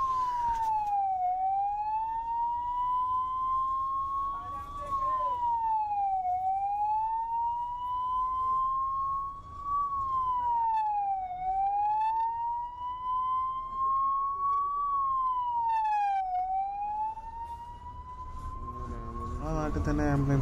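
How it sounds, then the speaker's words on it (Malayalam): An ambulance siren wails slowly up and down in long cycles over the rumble of traffic stuck in a jam on the mountain road to Kullu and Manali, fairly near and clear. "ഇപ്പോൾ ഒരു ആംബുലൻസ് പോകാനാണ് അതിൻ്റെ സൗണ്ട് ഇറക്കിയത്."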